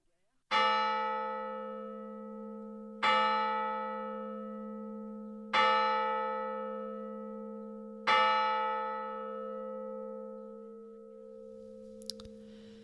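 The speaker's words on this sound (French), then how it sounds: "les cloches tintent lugubrement pour la messe des funérailles" A church bell tolls slowly and mournfully for a funeral mass, four heavy evenly spaced strikes about two and a half seconds apart, each ringing and fading into a long hum, loud and alone.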